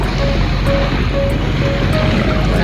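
Ocean surf breaks on a beach at Dinggalan, Aurora, a steady loud wash of waves with a faint intermittent tone above it.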